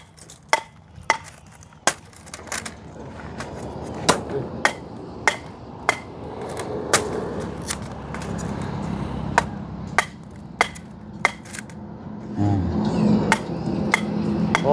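Nails are hammered during the construction of a new house, with sharp, irregular metallic strikes about once a second over a steady background murmur. The blows sound fairly close and continue throughout.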